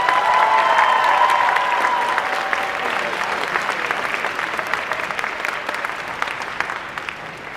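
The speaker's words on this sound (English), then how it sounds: "Let's give them a round of applause for that." An audience at a high school senior debate applauds steadily, a dense and loud round of clapping with a faint tone under the start that gradually eases off.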